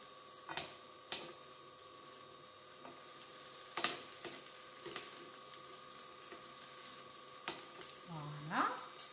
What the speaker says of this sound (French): Donc, vous laissez saisir pour avoir bien le côté caramélisé